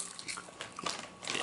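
A crunchy snack is bitten and chewed up close, giving a quick series of sharp, brittle crunches and crackles with no talking.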